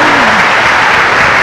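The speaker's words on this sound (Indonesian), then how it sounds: "kasih tepuk tangan dulu dong buat Bapak kita" A brief burst of dense crowd applause at a regional Posdaya convention in West Java and Lampung, many hands clapping together loudly, with a faint voice briefly audible at the start.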